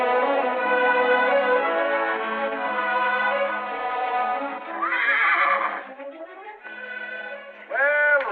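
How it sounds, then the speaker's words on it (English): A horse neighs in a classic western film, a long, loud whinny that rises and wavers for several seconds, followed after a short pause by another sharp, quavering burst near the end. "Nice little horse you got here, Sonny."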